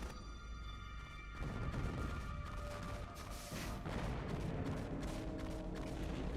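Explosions go off in Metal Gear Solid: The Twin Snakes on the GameCube: dense, rumbling booms surge twice and then roll on as loud, continuous blast noise.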